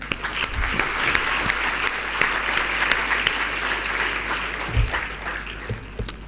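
An audience at a school awards ceremony claps warmly for the parents, a close, dense burst of hands that holds steady and then tapers slightly near the end.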